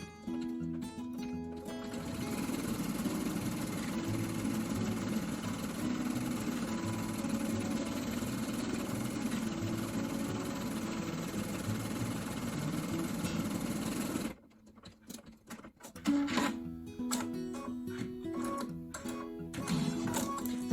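An embroidery sewing machine stitches a design for a compact mirror lipstick purse, a steady loud mechanical whir with rapid needle ticking that runs continuously, then stops and gives way to scattered handling clatter.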